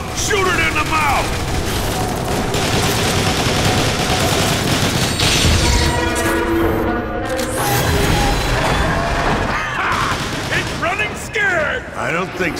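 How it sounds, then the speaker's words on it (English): Rapid gunfire from a firefight in the Transformers: War for Cybertron video game, dense and continuous with booming blasts and mechanical clatter layered through a loud battle mix. "Shoot it in the mouth!"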